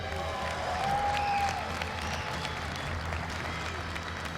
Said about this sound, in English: Even Hines is clapping for you, Snipe Down.